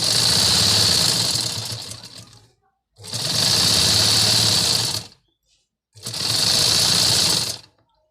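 Three loud, close bursts of a sewing machine stitching a dress hem, each run a few seconds of rapid whirring chatter separated by short silent pauses.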